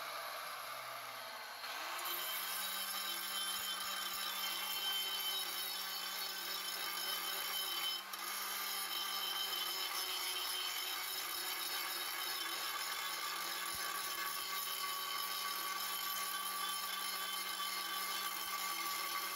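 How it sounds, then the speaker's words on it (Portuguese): A circular saw runs steadily while cutting a triangular vase, giving a loud continuous whine that spins up at the start with one brief dip partway through, and no voices. "agora eu vou ligar a maquita, vai fazer um pouco de barulho"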